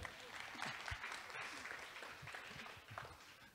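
An audience applauding at a startup founders' session, a steady wash of clapping that stays quiet and distant throughout.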